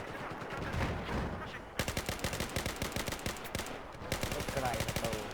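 Rapid gunfire in Battlefield 4 on hardcore mode, a dense run of sharp cracks with a brief pause and then more bursts, fairly faint and mixed with game noise, with a voice talking faintly beneath.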